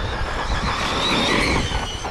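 A Team Corally Kagama 6S RC car accelerating, its electric motor giving a continuous whine with a rising pitch, heard from close by over a steady rushing noise.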